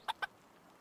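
The chicken creature in the video game Palworld gives two quick, close clucks in rapid succession, then falls quiet, with no talking.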